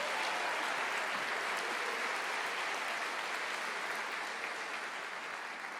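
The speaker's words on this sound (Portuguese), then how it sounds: "Aplauda mais, glorifique a Deus." A church congregation applauds in a steady, dense wash of clapping that holds evenly throughout, fading slightly near the end, with no voices rising above it.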